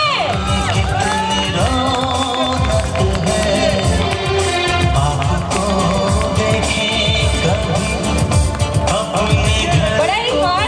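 A loud, dense crowd of guests cheers, whoops and shouts at a sangeet celebration, sustained for the whole stretch with busy voices and festive noise layered throughout.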